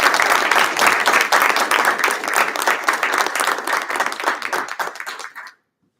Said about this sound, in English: Do a round of applause.